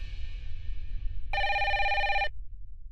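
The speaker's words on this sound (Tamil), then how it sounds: "இந்த மொபைல் காலத்துல லேண்ட்லைனுக்கு யார் ஃபோன் பண்றாங்க?" Landline telephone ringing, one bright electronic ring burst of about a second over a low background hum.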